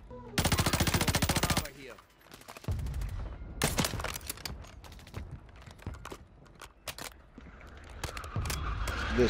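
Gunfire in Call of Duty Rebirth: a long rapid automatic burst, then scattered shorter bursts and single loud shots with brief pauses, close and sharp, over game ambience and footsteps.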